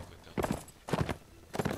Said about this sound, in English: So now he's doing some gay galloping, as you do.